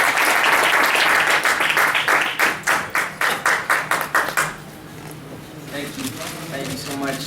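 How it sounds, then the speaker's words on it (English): A crowd applauds boxer Edgar Mares of Guadalajara, Jalisco, Mexico: dense, loud clapping for about four seconds, thinning to scattered claps and fading out, then a quieter room. "Please give a round of applause from Guadalajara, Jalisco, Mexico, Edgar Mares"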